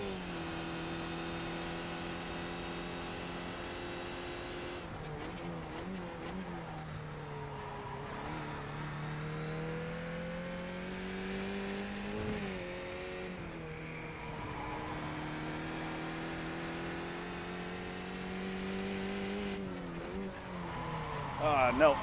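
Mazda race car in a racing video game at Lime Rock, its engine droning steadily and rising and falling in pitch through gear changes and corners across the lap, with a voice talking over it.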